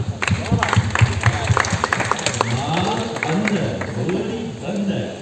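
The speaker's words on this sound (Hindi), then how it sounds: "मुबारक हो, तालियां।" Audience applause at a film launch event, with rapid clapping rising and falling over a few seconds, mixed with someone speaking loudly over it.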